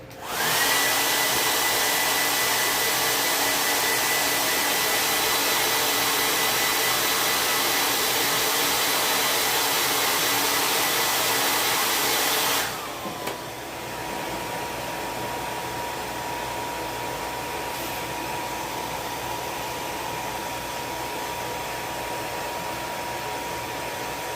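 A heat tool runs loud and steady as it dries a Halloween ghost craft piece, a constant close whooshing roar that drops to a lower, quieter setting about halfway through and keeps going.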